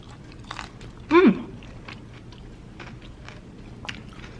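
A single short bite into baked sushi topped with sauce and a little wasabi, a brief crunchy chew near the start, then quiet room tone.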